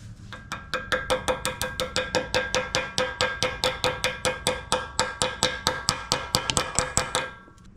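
Pliers used as a hammer to drive a pin on a Jeep Cherokee XJ during an oil pump replacement: about thirty quick, evenly spaced, sharp metallic taps, close and clear, with no talk.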